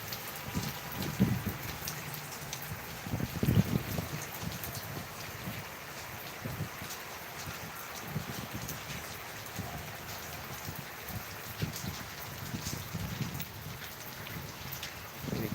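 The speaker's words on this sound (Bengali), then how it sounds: "কেমন বৃষ্টি হচ্ছে তো এটা দেখলেই" Steady rain pattering on surfaces in Dhaka, a dense wash of drops with occasional heavier thuds, continuous throughout with no voices.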